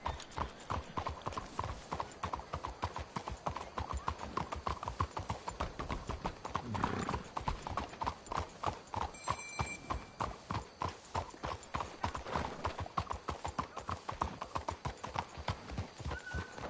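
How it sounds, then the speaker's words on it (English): Horse hooves clip-clop at a steady walking rhythm in the Red Dead Redemption 2 video game, close and continuous, with a brief whinny partway through. "Let's hitch the horses up ahead."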